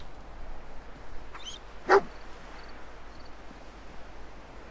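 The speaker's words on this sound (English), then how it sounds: "Greet the dog." A dog in the video game Fallout 4 gives a single short bark midway, fairly close, over a quiet ambient game background.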